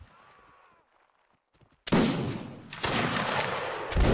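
Musket volleys in a Napoleonic line battle video game: after a brief quiet with faint voices, a loud ragged burst of gunfire crackles out, followed by a second wave of overlapping shots.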